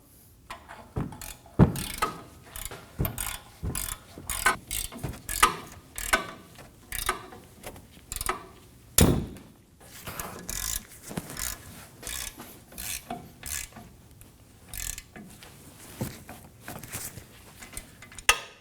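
Ratchet wrench snugging the two rear nuts on a Nissan Armada (2017-2024) rear wheel hub and bearing assembly, heard as repeated bursts of quick close-up clicking and rasping strokes with short pauses, no talking.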